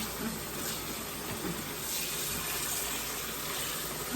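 Tap water runs steadily into a kitchen sink as food is rinsed under it, a constant close gush with faint splashing and no voices.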